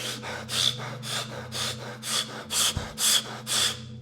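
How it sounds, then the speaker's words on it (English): Rapid, forceful breathwork: about nine sharp, rhythmic breaths close to the microphone, evenly spaced over a low background hum. "Do some crazy breathing."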